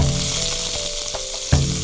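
Ginger, pickled chili, garlic and scallion stir-fry in a smoking-hot wok, a close, continuous loud sizzle with a brief sharper burst near the end.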